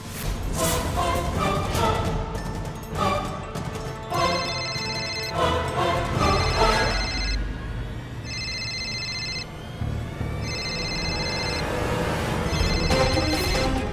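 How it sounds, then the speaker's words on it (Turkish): A telephone rings nearby in repeated bursts with short pauses between them, over a steady background of music and room noise. "Telefon yakınlarda çalıyor."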